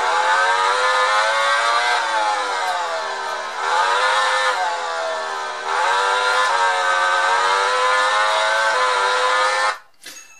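A motorcycle engine revs in a video game on a Sony VAIO Duo 13 laptop, a loud steady whine rising and falling in pitch with several gear-like surges, then cutting off abruptly near the end.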